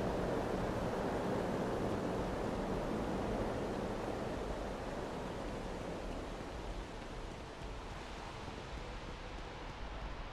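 Steady broadband rush of a waterfall in the Starfield video game, a continuous even roar heard from a short distance with no voices.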